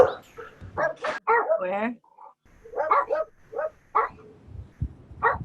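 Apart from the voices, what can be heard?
dog barking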